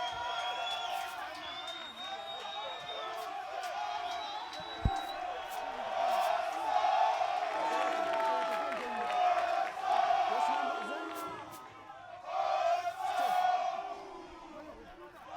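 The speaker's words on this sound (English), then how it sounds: "A rapid applause is being given to Samson Onsomu, set to get onto the field of play for Impala." A rugby crowd at a Kenya Cup match between Kenya Harlequin and Impala Saracens cheers and claps as a player comes on, a distant roar with whoops and shouts that swells and dips, under a commentator's voice.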